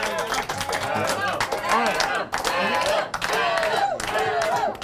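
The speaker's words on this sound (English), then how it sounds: "a round of applause to give him some life." A live podcast audience cheers and shouts loudly and continuously, with scattered clapping mixed into the crowd noise, while a voice speaks over the din.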